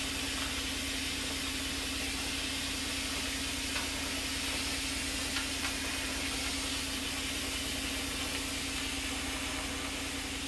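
A steady, even hiss of steam pours from a steamer worked over a skein of yarn, continuous and unbroken with a faint low hum beneath it and no talk.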